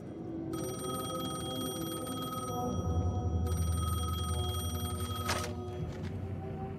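A telephone rings steadily and loudly in the video game Alan Wake 2, its bright repeating tone sounding alone over a low ambient hum.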